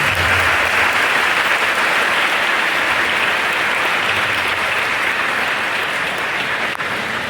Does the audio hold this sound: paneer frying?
no